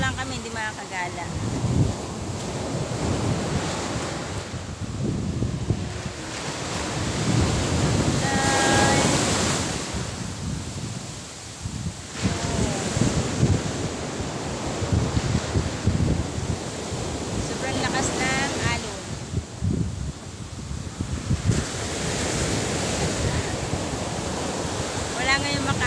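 Heavy surf from big sea waves rolls in continuously, swelling and breaking in loud surges near the shore, with strong wind noise on the microphone and a person talking intermittently.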